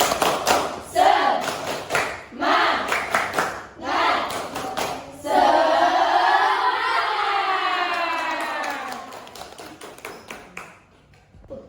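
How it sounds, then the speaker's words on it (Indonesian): A class claps together in a rhythmic spirit-clap pattern, bursts of sharp claps in a steady beat followed by a long sustained group chant or cheer that fades out. "Ayo mari kita bersama-sama. 1, 2, 3. Tepuk semangat."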